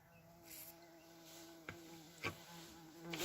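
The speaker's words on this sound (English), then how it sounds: "There's a bee in here." A bee buzzing indoors at a painting desk, a faint steady drone with a few brief louder passes as it flies near, heard alone without talk.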